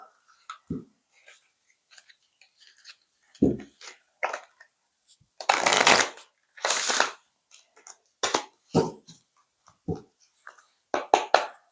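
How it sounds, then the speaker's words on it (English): Crisp bursts of riffling tarot cards: a few short flicks, then two longer, louder riffles mid-way, followed by a scattering of quick snaps, close and with no talking. "We'll do one more shuffle."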